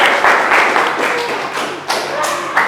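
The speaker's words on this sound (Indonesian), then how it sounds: "Tepuk tangan dulu untuk kelompok Butterfly." A classroom group called Butterfly receives applause, a steady patter of clapping with a few sharper thuds that rises and dips over nearly three seconds, fairly close and loud.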